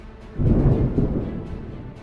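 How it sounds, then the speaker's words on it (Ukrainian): A distant thunder rumble swells and slowly fades in a single low roll lasting under two seconds, heard alone without speech. "Десь далеко почувся грім"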